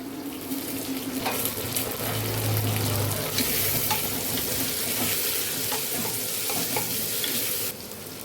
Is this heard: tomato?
yes